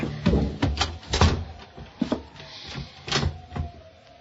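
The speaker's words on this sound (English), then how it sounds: "I pushed her body into the closet next to the body of Mr. Field and closed the door" A closet door in a radio drama sound effect is handled and shut, with a series of close wooden knocks, bumps and rattles spaced irregularly across a few seconds, no voices.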